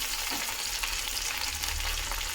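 Okra and potato pieces frying in oil in a pan. A steady, even sizzle with a low background rumble holds for the whole moment, moderately quiet and with no talk.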